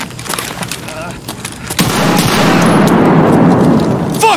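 A grenade explodes amid gunfire in a first-person shooter video game: scattered sharp shots at first, then a heavy blast that rolls into a sustained rumbling roar, with brief voice fragments mixed in.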